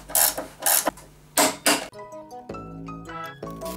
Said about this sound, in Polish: Wkładam koło między lagi, przekładam ośkę i przykręcam na 65 N.